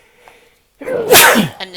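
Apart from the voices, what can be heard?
sneeze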